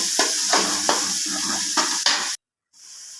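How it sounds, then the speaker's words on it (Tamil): Two large onions sauté with fennel in a hot pan until golden, a dense steady sizzle broken by repeated scraping stirs, close and fairly loud, then a brief cut to silence and a softer sizzle returning. "பெரிய வெங்காயம் ரெண்டு போட்டுக்கலாம் இப்போ நல்லா பொன்னிறமாக வதங்கிட்டேங்க"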